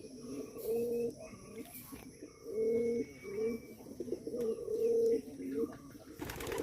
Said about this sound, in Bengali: কবুতরের ভিতরে ডাকাডাকি করতেছে।